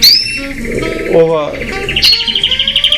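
Rare yellow opal mosaic canaries chirp and trill close up, a bright continuous song ending in rapid repeated notes.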